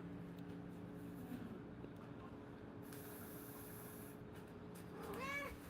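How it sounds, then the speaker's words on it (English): A female house cat gives a clear meow near the end, rising and falling, heard close over a steady low background hum, with no talk. "She's a very vocal cat"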